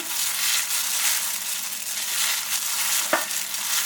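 Flour being stirred into a mix of potato and carrot for a potato carrot bread, a steady close scraping and mushing texture with a brief sharper knock near the end, no voices.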